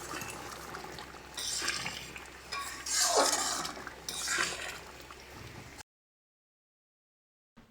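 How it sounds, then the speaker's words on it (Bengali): Chicken mince ghugni is stirred in a pan, producing a wet, scraping clatter with bursts of bubbling and sizzle. It sounds close and moderately loud, breaks off partway through, and comes back briefly at the very end. "নেড়ে চেড়ে নামিয়ে নিচ্ছি।"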